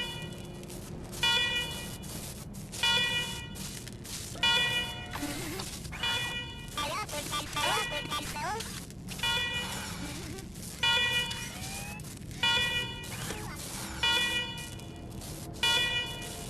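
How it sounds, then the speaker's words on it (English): Repeating alarm blaring in the video game Wasteland 3, loud bursts pulsing roughly every two seconds over a steady hum of game ambience, with a voice shouting between blasts. "Alarm! Alarm! Alarm!"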